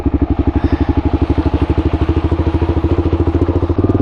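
A Kawasaki KLR650 single-cylinder motorcycle idles up close with a loud, steady, rapid thumping beat that stays even throughout, with no talking over it.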